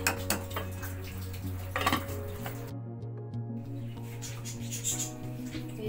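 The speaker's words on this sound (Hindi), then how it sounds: "ये फ्राइड प्याज है, आधी प्याज है, ये हम इसके अंदर डाल देंगे, और इसको भी अच्छे तरीके से मिक्स कर लेंगे।" Fried onions are mixed into half-cooked beef in a metal pot for white beef biryani, with clinks and scrapes of a spoon against the pot over a low background hum and a brief quiet gap.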